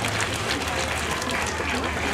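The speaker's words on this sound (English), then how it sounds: "give them a big round of applause" Graduation ceremony audience of parents and families applauding in a hall, a steady dense wash of clapping that stays loud and even throughout with no pauses.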